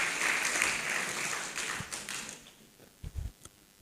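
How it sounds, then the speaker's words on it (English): A burst of applause from an audience at an academic journalism event fades out, followed by a few scattered, isolated claps. "Let's give him a round of applause in absentia."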